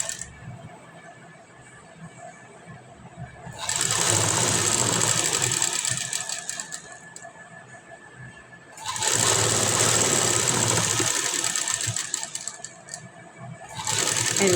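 Sewing machine running in two long stitching bursts along a blouse side seam, a steady loud whirring that stops, pauses, then starts again, with no talk.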